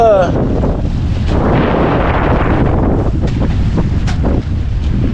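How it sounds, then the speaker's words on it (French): Strong mistral wind roars steadily across the microphone on a sailboat at sea, with rushing water and creaking boat noise beneath, loud and continuous throughout. "Vous allez entendre le vent"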